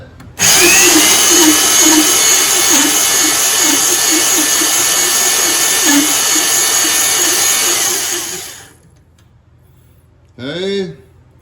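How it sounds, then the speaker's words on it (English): A cylinder hone spins inside the bore of a two-stroke Yamaha Blaster cylinder, a loud steady high-pitched drill whine with a rhythmic chatter that winds down after about eight seconds, followed by a short voice. "ideally you'd have the hone going in and out, and you'd pull it out without stopping"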